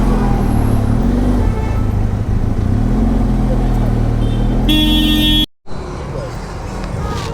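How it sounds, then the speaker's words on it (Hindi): Dense Sunday road traffic in Lonavala, heard from a Benelli TRK 502X motorcycle: a loud, steady rumble of engines with a brief horn-like tone near the end before a sudden cutout. "the usual Sunday traffic of Lonavala"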